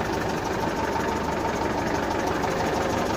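A tractor engine idles steadily and loudly up close, a constant rumbling drone with a faint rhythmic knock and no voices over it.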